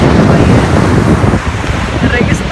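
Waves and strong wind at Jumeirah beach in Dubai at sunset, loud and steady surf with heavy wind buffeting the microphone, no voices.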